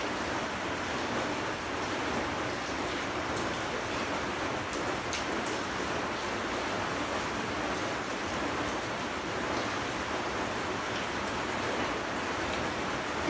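Steady rain falls around an outdoor spot where green mango salad is eaten with celery, a broadband hiss that stays even from start to finish with no voices.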